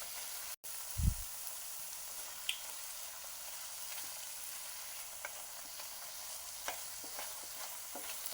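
Apple halwa cooking in ghee, a soft steady sizzle close by with a low thump near the start and a few faint scrapes and ticks of stirring, quiet and without talking.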